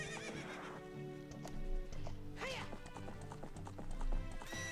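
A horse in the video game Ocarina of Time neighs with a clear, rising whinny. Its hooves clip-clop in a quick gallop, and a soft game music bed plays underneath.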